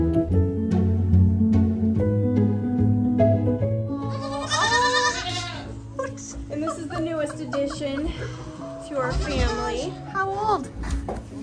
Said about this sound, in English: we're going to go see some goats.